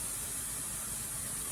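A pressure canner venting steam strongly, a steady, even hiss with no breaks, moderately quiet and with no talking.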